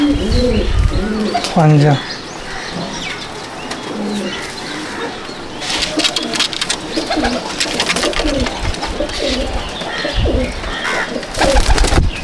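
Pure-breed pigeons in a loft at Icchapur, North 24 Parganas, coo in repeated throaty bursts close by, mixed with some chirps, while someone talks over them for most of the stretch.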